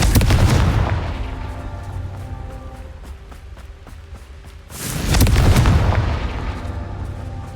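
A booming Confringo blasting-spell explosion from a Harry Potter video game roars out loudly, fades into a long rumbling tail, then a second powerful blast erupts a few seconds later.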